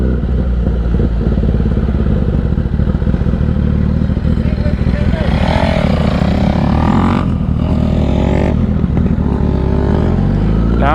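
A dirt bike engine runs while being ridden, with a loud, close, buzzing drone throughout and a couple of rising and falling revs partway through.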